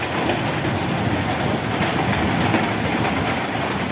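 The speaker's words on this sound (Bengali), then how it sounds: "দেখছেন অনেক বাতাস বৃষ্টি হতেছে" Steady roaring wind mixed with heavy rain, a dense continuous rush with no pauses and no voices.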